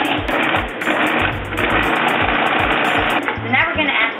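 A food processor pulses flour and butter for chocolate pecan tart dough, a loud, steady motor whir that stutters with short on-off bursts, close up and filling the clip.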